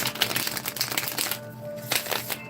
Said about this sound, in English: I'm going to do 2 more butterfly shuffles